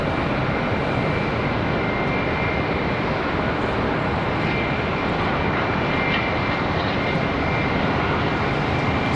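A Spirit Airlines jet airliner taxis for departure at Charlotte Douglas International Airport, producing a steady, loud broadband engine roar with a faint high whine that holds constant throughout, with no talk.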